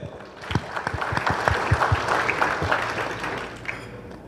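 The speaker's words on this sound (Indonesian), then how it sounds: "Aplaus dulu untuk PBB" Clapping from an audience at an installation ceremony for a youth organisation in West Papua, a lively burst of many hands close by that holds steady for several seconds with no talk.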